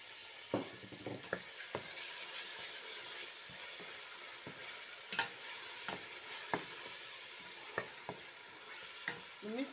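Minced meat sizzles in a pan for eggplant stew, a soft continuous fry broken by a dozen sharp spatula scrapes and knocks at uneven intervals, close and without talk.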